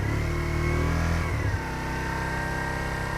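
Motorbike engine held at about 3,000 to 4,000 rpm during a beginner clutch-control lesson, a loud close steady rev that drops abruptly to a lower idle-like drone partway through.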